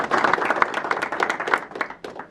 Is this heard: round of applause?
yes